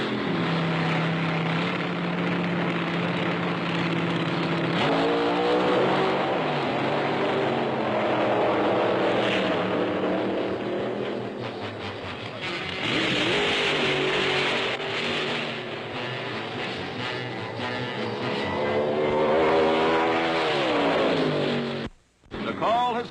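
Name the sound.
drag racing car accelerating down the strip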